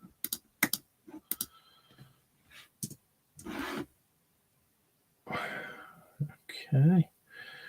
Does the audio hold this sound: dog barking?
no